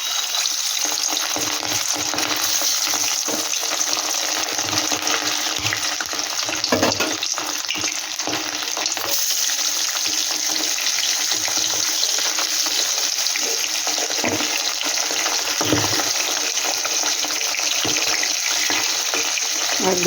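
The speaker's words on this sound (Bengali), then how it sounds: "আমি মাছটাকে একটু হালকা করে ভেজে নেব।" Hilsa fish fries lightly in hot oil, giving a loud, dense, continuous sizzle with occasional clicks and stirs, close up and without any talk.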